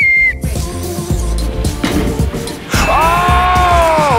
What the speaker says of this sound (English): When I blow my whistle, you go, okay?